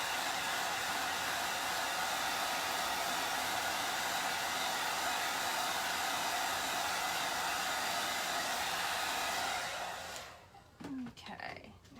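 Hair dryer blowing steadily on a handmade paper craft piece, a loud continuous whoosh that runs for about ten seconds before cutting off, followed by faint handling sounds.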